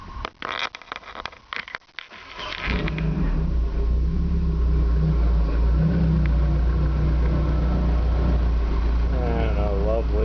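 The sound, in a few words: 1970 Opel GT 2.4 engine with Motronic fuel injection idling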